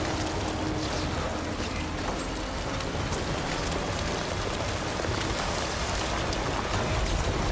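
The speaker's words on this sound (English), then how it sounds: "the truck's getting rained on" Steady rain pours down on a truck in Death Stranding, a dense unbroken hiss of drops drumming on the surface from start to finish with no voices.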